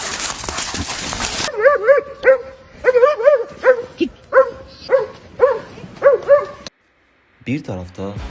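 A Kangal, an Anatolian livestock guardian dog, barking in a steady series of loud, deep, evenly spaced barks after a short burst of other sound, with a brief silent gap near the end.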